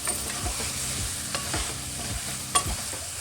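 Biriyani powder stirred and frying in hot oil in a pan, with a soft steady sizzle and repeated scraping strokes of a spoon, fairly quiet and close.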